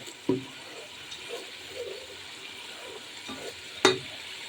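Onion paste and spices sauté in a pan for hilsa pulao, with a faint low sizzle broken by a few sharp spatula taps and scrapes, the last one the loudest.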